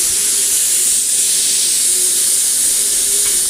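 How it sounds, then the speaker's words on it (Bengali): Pressure cooker venting steam while dal boils, a steady loud hiss held throughout with no break. "প্রেসার কুকারে সিটি পড়ছে, আমার ডাল সিদ্ধ হচ্ছে এই জন্য"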